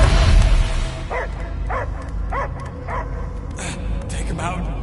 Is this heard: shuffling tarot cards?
no